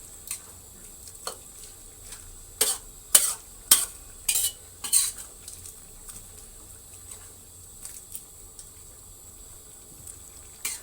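Rat meat is stir-fried in a pan, with a faint continuous sizzle under sharp, close clinks and scrapes of a utensil against the pan, bunched in a quick burst midway and then sparser, with no talking.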